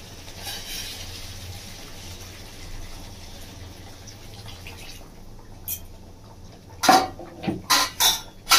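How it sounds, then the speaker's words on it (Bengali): Hot water goes into a pan of Bengali-style chicken kosha with cooked-down masala, a steady pouring rush for several seconds, then a few sharp metallic clanks close by. "গরম জলটা দিয়ে দেবো"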